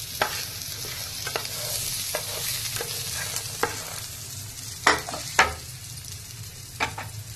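Sliced onions frying in oil in a pan, sizzling steadily while a spoon stirs and scrapes, with a few sharper clanks of utensil against the pan near the end.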